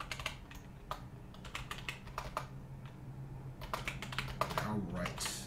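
Someone typing on a computer keyboard, with quick bursts of clicking keystrokes separated by short pauses, close and moderately loud.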